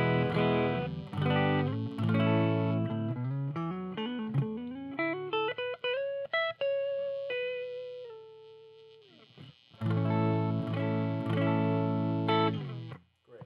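Electric guitar on a clean tone through a Wampler Germanium Tumnus pedal into a Supro Amulet amp: ringing strummed chords, then a rising run of single notes ending on a sustained held note, before full chords return and fade.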